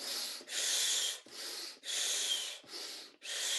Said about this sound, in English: We're going to breathe in through our nose, raising our hands up and exhaling through the mouth.